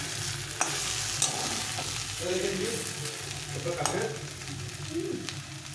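Potatoes sautéing in an oily spice masala for an egg curry, a steady close sizzle with scraping stirs and a few light utensil knocks, with no talking.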